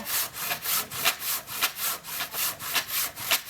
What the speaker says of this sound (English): we're not cutting as efficiently as the other saw